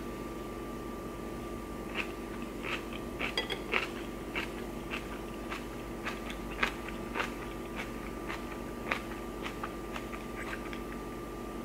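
Someone eating kimchi, with sharp, irregular crunchy bites and chewing sounds close up over a steady low room hum, no talking.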